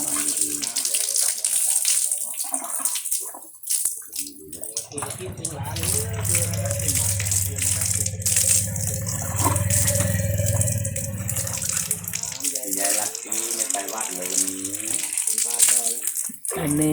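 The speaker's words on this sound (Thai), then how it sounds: "อันดาก็อาบน้ำกำลังจะกินน้ำนะคะ" Running water gushes and splashes steadily as an elephant is bathed in the early morning, with people talking over the flow throughout.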